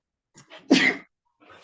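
A single sharp sneeze, close and loud, preceded by a short intake of breath.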